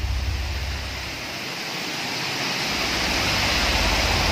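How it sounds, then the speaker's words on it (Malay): A small stream running strong after rain, a continuous loud rushing roar of flowing water heard up close with no voices over it. "Dekat sini ada macam anak sungai tapi boleh tahan kuat juga air ni."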